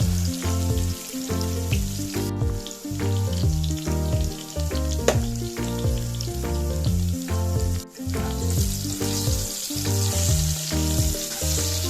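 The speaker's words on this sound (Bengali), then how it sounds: "কড়াইতে তেল গরম করে আলুর টুকরোগুলো দিয়ে দিলাম" Potato pieces fry in hot oil in a wok as a loud, close sizzle, broken by repeated knocks and scrapes from the pan and spatula. No voices are heard.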